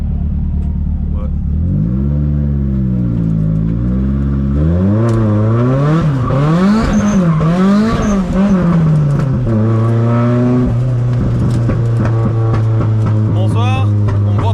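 A 500 hp Nissan S14 drift car's engine revs hard, its rising and falling roar sweeping up and down before settling into a loud steady drone, close and dominant, with voices underneath.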